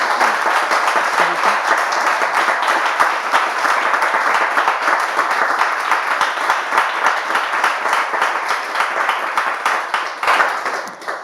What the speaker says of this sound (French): J'aimerais quand même qu'on l'ovationne, qu'on l'applaudisse aussi.